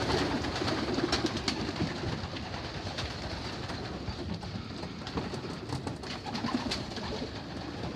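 Young pigeons coo softly in a crowded racing-pigeon loft, a steady low murmur of many birds with occasional sharper wing and scuffling sounds throughout.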